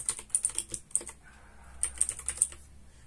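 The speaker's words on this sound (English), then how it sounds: "Now type your username" Bursts of keystrokes on a computer keyboard while a username is entered during an Ubuntu 25.10 installation, close and clear, in two quick clusters separated by a short pause.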